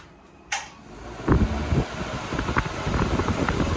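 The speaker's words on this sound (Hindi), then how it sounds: "और उसके बाद ये पंखा चलाए भाई" A homemade evaporative cooler fan with water-soaked khus pads whirs steadily after a switch-on click, a constant broadband hum with faint rattles, close by and without voices.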